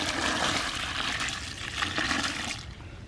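Water poured into a fence post hole packed with dirt, a continuous rushing gush that runs steadily and then eases off near the end, with no talking.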